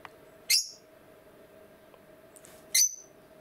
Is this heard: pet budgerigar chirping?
yes